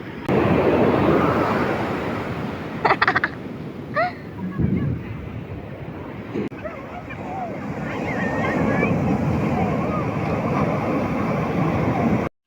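Sea waves washing onto a beach, heard as a continuous loud surf roar with heavy wind buffeting the microphone; a few brief sharper sounds break in around the middle before the steady wash returns.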